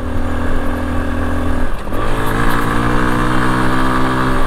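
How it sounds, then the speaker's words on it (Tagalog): A motorcycle engine runs loud and close on a road in Isabela, a steady droning roar that shifts pitch midway as the revs change. "Yun pagka ginalit mo yung makina eh, galit na galit."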